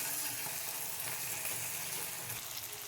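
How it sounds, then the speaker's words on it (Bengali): Onion, chopped chilli, soy sauce and tomato sauce frying together in a pan, a steady dense sizzle that stays close and even throughout, with no voices. "এবার আমরা পেঁয়াজ, লঙ্কা কুচি, সয়া সস আর টমেটো সস দিয়ে এটাকে মিক্স করে নিলাম, একটু ভেজে নিলাম।"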